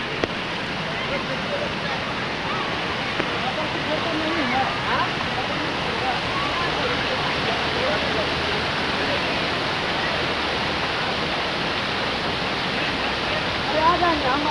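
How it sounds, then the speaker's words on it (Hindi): A waterfall pours near a lake and a cave, giving a steady, dense roar of rushing water that stays loud and close throughout, with a brief swell near the end. "देखिए ये झरना, देख सकते हैं दोस्तों, ये झरना है"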